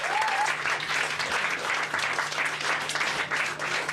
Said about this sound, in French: je vous demande d'applaudir Xavier Dolan